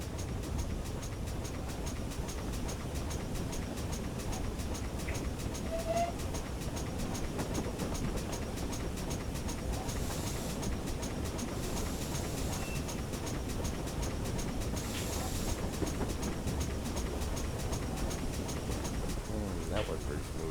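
A simulated train runs along a heritage railway in Train Simulator Classic, giving a continuous rumbling roll with faint rhythmic clicks, steady throughout and mixed with a quiet hum.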